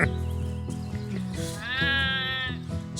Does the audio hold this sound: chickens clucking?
no